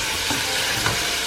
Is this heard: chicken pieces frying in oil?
yes